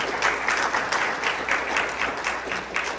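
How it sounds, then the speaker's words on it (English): Brief, steady applause from a seated audience at a community estate planning talk, a moderate wash of clapping with a faint pulsing rhythm. "let's give them one more hand of applause."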